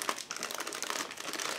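A plastic bag of model car kit parts for an Aoshima 1/24 JZX100 Chaser Tourer V is crinkled open, a steady, quiet rustling crackle up close with no talking.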